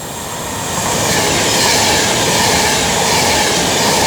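An Avanti West Coast class 390 Pendolino, unit 390 011, speeds through Milton Keynes Central on the West Coast Main Line, a loud, close roar building within the first second into sustained wheel noise and rail hiss.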